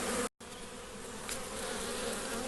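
Honeybees at a hive bringing in pollen on a warm September day make a steady, dense buzzing drone, close and continuous, with one brief dropout near the start.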